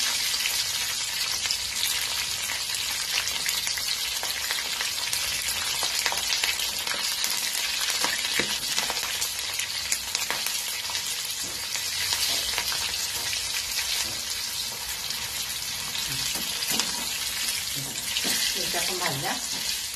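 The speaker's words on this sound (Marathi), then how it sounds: "तुम्ही खात असाल तर मिरच्या तळून घ्यायचे" Green chillies frying in hot oil while cooking fasting-day bhaji and puri, a continuous dense sizzle and crackle with occasional louder pops, close and steady throughout.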